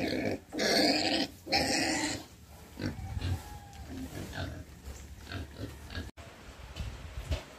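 Young pigs on a Filipino backyard farm grunting and squealing close by, a few loud bursts at the start followed by softer, continuous snuffling grunts and rustling.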